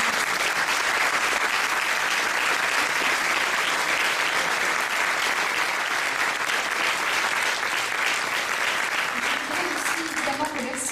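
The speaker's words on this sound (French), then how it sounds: "je voudrais qu'on les applaudisse" Sustained, dense applause from a live audience at a municipal campaign presentation of running mates in Auriol, honoring two children. The clapping stays loud and steady for about eleven seconds, and a voice begins speaking faintly near the end.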